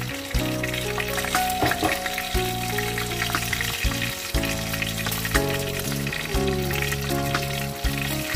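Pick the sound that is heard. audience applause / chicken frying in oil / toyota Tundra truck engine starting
chicken frying in oil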